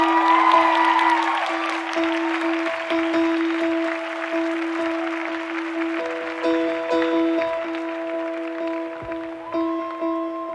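A concert crowd applauds at a live show in Madrid's Wizink Center, with moderate clapping and cheering under sustained musical tones from the stage, fading slightly toward the end.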